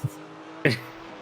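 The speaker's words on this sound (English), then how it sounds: "Good to hear the glorious noise of the Maserati, though." Maserati GT4 race car from a racing video game replay at the Hungaroring, heard as a brief engine rev with a sharp burst partway through over a steady low drone, moderately loud.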